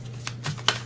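Tarot cards riffle briefly in a quick shuffle, a few soft papery bursts close by over a low steady hum.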